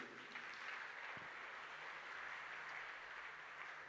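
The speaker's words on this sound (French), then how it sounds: "Quelqu'un peut acclamer le Seigneur" A church congregation breaks into applause acclaiming the Lord during a sermon, a steady, fairly distant wash of many clapping hands that holds evenly throughout at a modest level, with no one speaking.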